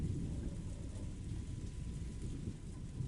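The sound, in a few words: rain and thunder in the video game Umineko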